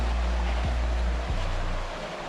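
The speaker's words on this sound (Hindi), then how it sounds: "पानी में चलना पड़ रहा है, पानी में चल रहा हूँ" Wading through shallow, clear water toward Delari waterfall in Raigarh: a steady rushing wash of flowing water fills the scene, broken by two dull low thumps of steps, with no voices.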